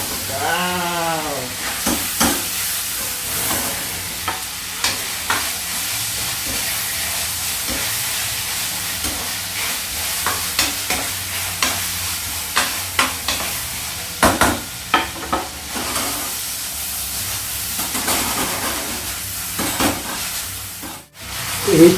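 Vegetables fry in a pan for a traditional clear chicken soup, with a steady sizzle and repeated scraping, clattering stirs that come close and fairly loud. A few voice-like tones appear near the start.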